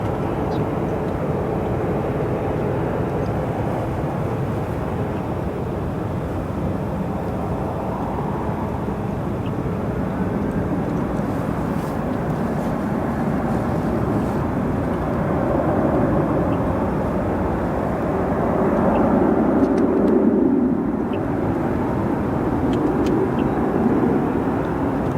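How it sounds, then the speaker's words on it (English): An Atlas Air Boeing 747 cargo jet taxiing toward the runway at Chicago O'Hare for departure to Anchorage, a steady distant engine rumble and whine that swells slightly near the end, with talking over it. "our Atlas Air 747 departing to Anchorage"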